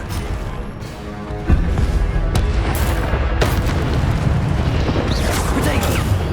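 Incendio fire spell cast in Hogwarts Legacy, with a sudden booming burst followed by crackling, whooshing fire effects and scattered impacts in ongoing combat, loud and dense, with game voices mixed in.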